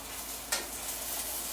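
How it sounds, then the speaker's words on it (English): Spring vegetables sautéing in a pan for pasta, softening over the heat: a soft continuous sizzle with one quick scrape of stirring, close and with no talk. "we're just gonna saute this down until they get soft"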